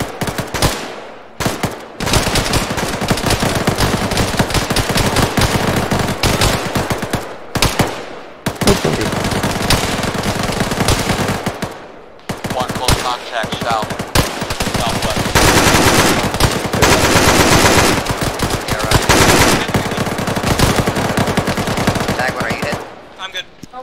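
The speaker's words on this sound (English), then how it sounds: "Mounted machine gun on the roof." Roof-mounted machine gun fire in the Arma 3 war game: loud, sustained automatic bursts with only brief pauses, dense and continuous, with voices faintly underneath.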